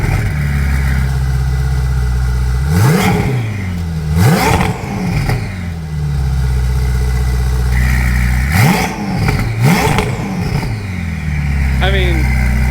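Modified Ferrari 488 turbo engine revving hard in repeated blips, each rise falling back to a rumbling idle, with a faint turbo whistle spinning down at the end; loud and close, with people talking over it.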